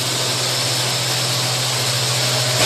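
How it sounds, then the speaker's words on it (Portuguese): A power sander grinding drywall putty off an interior wall, a loud continuous whirring hiss with a steady low motor hum, close-up and unbroken, with no talking. "estamos agora na fase do lixamento."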